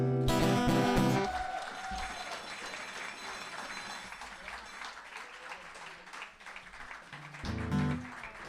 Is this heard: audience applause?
yes